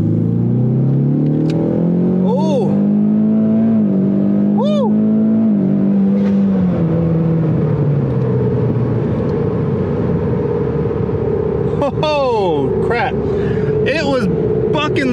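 A methanol-fuelled Ford Mustang EcoBoost launches hard, its engine note climbing loud and close with quick upshifts in the first seconds. It settles into a long rising pull, then more shifts come near the end.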